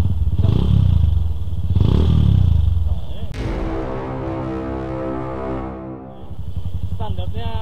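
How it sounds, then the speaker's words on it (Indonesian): Motorcycle engine roaring under throttle, then settling to a rough, pulsing idle and revving again near the end. Someone talks briefly between revs. "yuk, coba digas."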